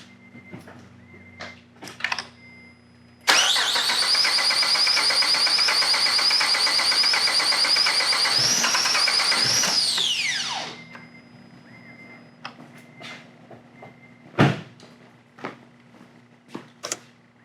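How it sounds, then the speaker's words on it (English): An Acura TL 3.5 with a misfire and check engine light starts abruptly into a loud, steady, buzzing engine roar that holds for about seven seconds, then winds down and cuts out, with scattered clicks and knocks before and after. "let's fire it up, crank it, see what we got."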